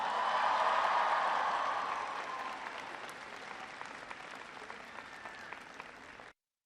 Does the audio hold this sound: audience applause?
yes